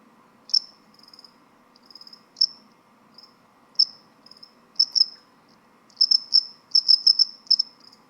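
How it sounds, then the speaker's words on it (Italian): A recorded house cricket chirps in short, bright, high-pitched bursts, sparse at first and then quickening into rapid clustered chirps, clear against a quiet background. "Il grillo domestico, andiamo a vedere se si rispondono."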